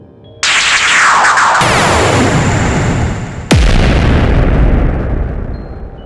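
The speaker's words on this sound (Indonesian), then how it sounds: "Ledakan energi yang muncul begitu besar hingga seluruh lereng gunung berguncang dengan hebat." A huge energy blast in a fantasy audio drama, a mountain slope shaking: a loud sudden boom erupts, rumbles on, then a second sharp blast hits and rolls into a long fading rumble.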